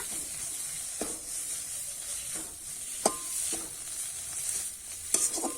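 A drumstick flower (sajne phool) filling is stirred in a pan over a soft steady sizzle, with a few sharp scrapes and taps of the spatula spaced a second or two apart; no one speaks.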